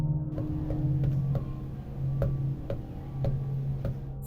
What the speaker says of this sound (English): the sound of footsteps on wooden floors